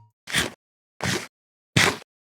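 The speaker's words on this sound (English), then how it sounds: "the sound for eating is actually generated procedurally" Three short crunchy Minecraft eating sounds, evenly spaced and separate, each a brief noisy chomp with silence in between.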